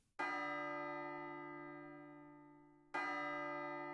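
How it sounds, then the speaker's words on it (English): Two clear bell strikes from the Nintendo Switch 2 Welcome Tour game, each a bright metallic clang with a long ringing decay, the second coming just under three seconds after the first. "you can really feel the ringing of the bell"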